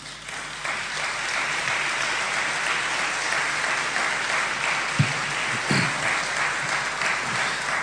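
An audience applauds steadily at an official Day of Memory for Truth and Justice ceremony in Chaco, Argentina, with dense continuous clapping throughout and a few louder thumps near the end.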